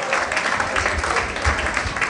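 An audience at a faculty masterclass applauds award recipients, a steady dense wash of clapping from many hands filling the room for the whole stretch.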